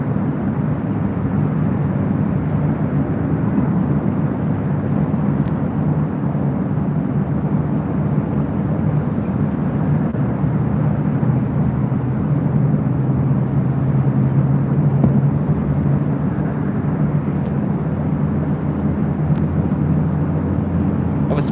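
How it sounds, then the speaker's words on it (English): A Spirit Airlines A321 airliner arriving from Dallas Fort Worth at LAX on runway 25 right produces a continuous, loud, broad jet roar with a low engine drone that holds steady throughout, heard at a distance with no talk. "Spirit A321 arriving on 25 right on the south side."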